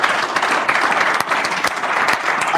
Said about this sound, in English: I beg a round of applause for Ordinary President.